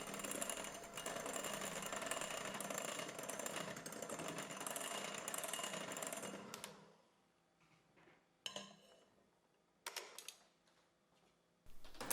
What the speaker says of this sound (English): continue to mix this with my hand mixer